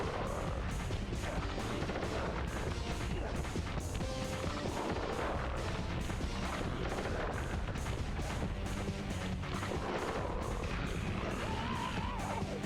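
Gun being smashed during a mirror-shooting fight in the Sly Cooper video game, heard as dense, continuous rapid blasts and crashes that stay loud and cluttered throughout.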